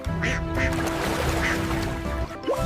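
Swimming ducks quack several times in short, evenly spaced calls, set against a steady musical background.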